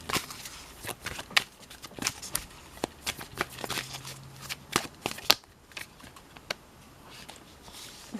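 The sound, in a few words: shuffling tarot cards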